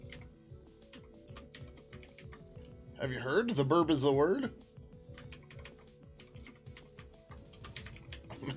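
Steady clicking of typing on a computer keyboard while working on C/GTK code, continuous throughout, with a person speaking briefly over it in the middle.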